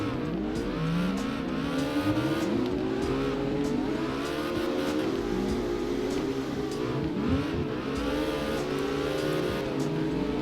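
A Cobra S650 drifts in CarX Drift Racing Online, its engine revving continuously, pitch rising and falling through transitions, with tire squeal mixed in and no voices.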